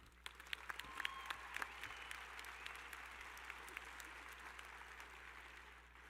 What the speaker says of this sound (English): Please join me in a round of applause recognizing the talents of these groups.